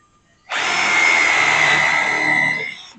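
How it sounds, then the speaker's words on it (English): A power drill bores a pilot hole in wood during an Adirondack chair build, a single close, loud whine that starts abruptly, holds a steady pitch for about two seconds, then winds down. "Drill a pilot hole and we'll do a countersink."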